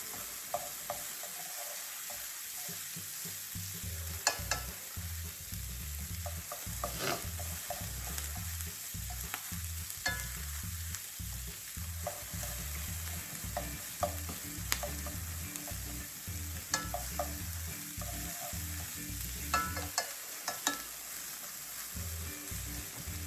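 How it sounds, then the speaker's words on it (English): Vegetables for sloppy joes fry in a pan while being stirred, a continuous close sizzle broken by repeated scraping and clattering of the utensil against the pan. "Stir that around in there. Help bring out some of the moisture on these things."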